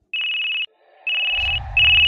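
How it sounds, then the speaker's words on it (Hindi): A mobile phone ringtone plays for an incoming call, loud and close, in three bright electronic tone bursts with short gaps, and a low rumble joins in near the end. "तभी मोबाइल पर उसकी मम्मी का कॉल आता है"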